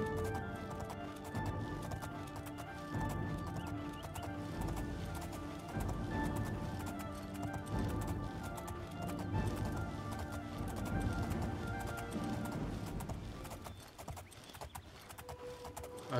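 Horse hooves clip-clop steadily at a trot in the video game The Elder Scrolls IV: Oblivion, a continuous rhythmic patter under sustained tonal background sound, fairly quiet overall.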